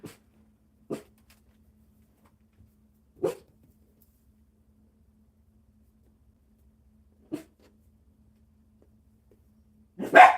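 A dog barking outdoors in a public place near a home, giving five sharp separate barks spread over about ten seconds, with quiet gaps between them and the last bark the loudest.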